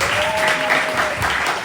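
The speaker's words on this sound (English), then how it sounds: "y'all give another round of applause for that." A crowd claps steadily, a dense wash of applause with no clear pauses, fairly loud throughout.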